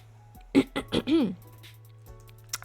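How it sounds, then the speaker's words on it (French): A woman clears her throat in a few short, rasping bursts close to the mic, followed by a quieter stretch with faint background noise. "Désolée si je me racle la gorge."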